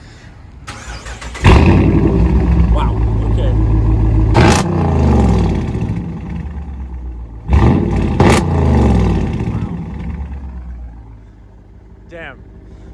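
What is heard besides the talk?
straight-piped car exhaust revving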